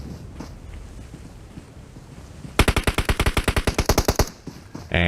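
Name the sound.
gunfire in a shooting video game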